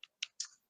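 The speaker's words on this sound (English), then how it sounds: "We've got Sean's typing at the moment" Three quick, faint keystrokes on a computer keyboard, crisp and close, with silence between, no talk.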